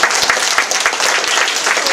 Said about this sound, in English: How about another round of applause for Dwayne and Misty?